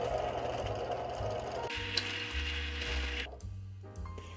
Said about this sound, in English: we need to drill 2 holes, one slightly to the left about 1/4 of an inch